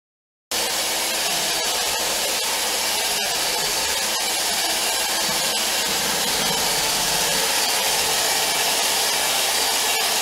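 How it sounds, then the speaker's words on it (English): A steady, loud motorized whir runs continuously from just after the start, a power drill spinning a brush scrubbing the flat surface of a cast iron skillet, no voices. "it's easier to use the power drill with the brush on the flat surface"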